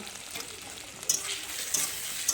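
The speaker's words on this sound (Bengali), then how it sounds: "এটাকে আমি ভালো করে ভেজে নাড়াচাড়া করে নেবো" Tilapia pieces fry in hot oil with onion, tomato and chopped green chilli, giving a steady soft sizzle with a few sharper crackles and spatters as the pan is stirred.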